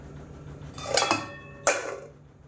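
A lid is set over a pot of cooked food such as dal or banana flower curry, producing two short metallic clinks, the second sharper, against a quiet room.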